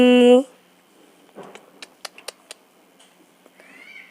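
A single loud, high kitten meow at the start, followed by soft scattered clicks and light rustling, and a faint squeaky note at the end.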